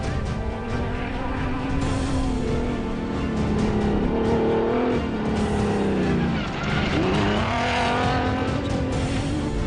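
Race car lapping a circuit, a steady engine drone with shifting pitch sweeps and tire noise, fairly loud and continuous with no voices.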